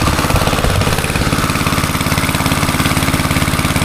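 A boat engine at a fishpond idles loudly and close, with a steady rapid chugging rhythm and strong vibration that run unchanged throughout.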